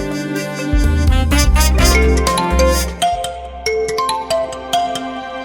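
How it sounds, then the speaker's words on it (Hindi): Mobile phone ringtone playing a loud melodic electronic tune, a run of bright tones and chords that shifts into a sparser sequence of separate notes, with no talk over it. "तुम्हारे पति परमेश्वर का फोन है।"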